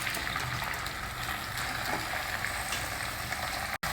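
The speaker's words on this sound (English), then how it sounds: "See, fry the gongura leaves like this" Gongura leaves frying in til (sesame) oil in a pan give a steady, close, broadband sizzle and hiss, unbroken throughout apart from a momentary cut near the end.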